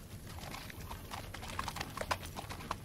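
Horse hooves clip-clop in a quick, uneven rhythm on a hard surface, fairly close, with a few sharper knocks standing out.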